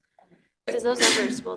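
A single loud sneeze bursts out suddenly after a moment of near silence during a county commissioners' meeting, with faint murmuring before it.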